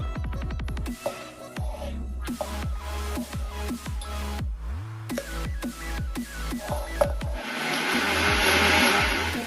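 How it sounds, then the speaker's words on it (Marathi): A mixer grinder whirs through tamarind, garlic, ginger pieces, salt, coriander and roasted gram for chutney, running in repeated short pulses that rev up and wind down, then settling into a longer steady grind, loud and close. "थोडीशी चिंच, लसूण, आल्याचे तुकडे, मीठ, कोथिंबीर आणि फुटाणे सगळं मिक्सी जार मध्ये घालून चटणी करून घेऊया"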